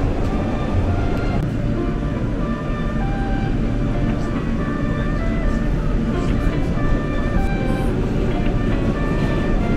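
New York City subway train in motion, loud continuous rumble and rattling wheel noise inside the car with faint tonal whines, steady throughout without clear talk.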